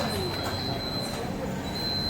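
An underground metro train sits at a station platform, giving a steady, loud rumble with a thin, high, continuous wheel squeal running through it. No one speaks.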